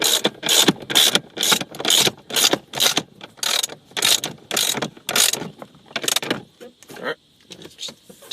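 Ratchet tightening the steering wheel nut on a Nissan 300ZX, a run of about fifteen quick clicking bursts in steady rhythm, close and loud, slowing and thinning toward the end.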